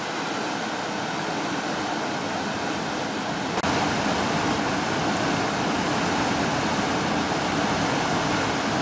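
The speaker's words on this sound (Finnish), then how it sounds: "Välillä levähdetään ihailemaan kosken kuohuja." Rapids on the Ravadasjoki in Lapland rush with a loud, steady roar of churning water that continues unbroken throughout, heard alone with no voices.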